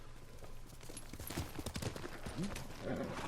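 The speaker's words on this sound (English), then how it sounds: "Damn it, horse, move." Horse hooves clip-clop in a Ghost of Tsushima game scene, a loose run of hoofbeats amid busy background noise and a few brief voice-like sounds.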